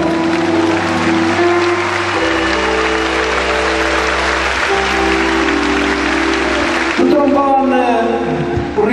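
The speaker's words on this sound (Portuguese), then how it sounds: "Uma salva de palmas para ele." Audience applause at a concert in the Gondomar multiuse arena, steady dense clapping beneath sustained musical tones from the band, swelling louder near the end.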